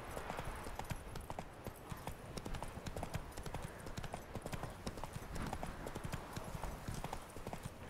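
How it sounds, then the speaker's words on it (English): Steady clip-clop of a horse trotting in The Witcher 3, a dense, even run of close hoofbeats that continues unbroken throughout over a quiet background wash. "whoa there, Roach"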